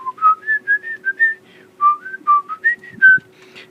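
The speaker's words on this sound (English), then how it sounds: "I'll even whistle it for you here." A person whistles a bright, stepping tune alone, a run of short clear notes in two phrases with a brief pause between, close to the microphone with a faint steady hum underneath.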